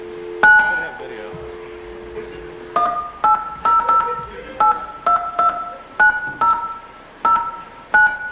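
Telephone dialing with a series of DTMF keypad tones at a social engineering panel, one long tone pair followed by a run of about a dozen short beeps in an uneven rhythm, loud and clear.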